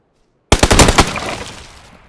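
Burst of automatic gunfire in PUBG on the Sanhok map during a duo tournament match: a rapid string of sharp, loud shots after a brief silence, then a ringing decay with no voices.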